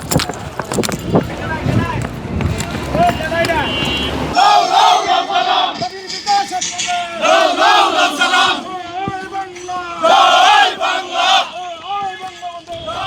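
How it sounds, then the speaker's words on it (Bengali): A large crowd at the national memorial on Independence Day chants Joy Bangla slogans in loud, rhythmic unison shouts that rise and fall, following a short stretch of mixed noise at the start. "মানে স্লোগান দিয়েছে জয় বাংলা জয় বঙ্গবন্ধু এবং অ্যাকশন ডাইরেক্ট অ্যাকশন।"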